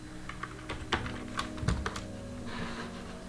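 Keys clatter on a computer keyboard during an eSewa login, a close, quiet run of irregular taps and clicks with a low steady hum underneath and no talk.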